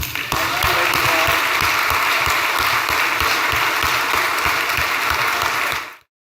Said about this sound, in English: Ladies and gentlemen, I'm going to ask you to clap twice.